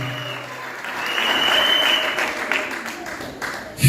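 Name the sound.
applause and cheering from church congregation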